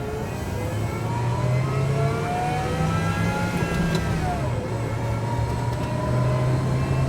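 An electric-converted Ford F-150 pickup with a manual gearbox drives down back roads and makes a right turn, its steady motor and road noise continuous and fairly loud throughout, with a rising and falling whine and no talk.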